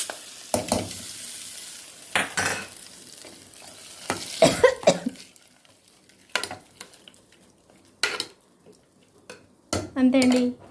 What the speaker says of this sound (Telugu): పప్పు ఎనుపుకున్న తర్వాత పోపు వేస్తాను.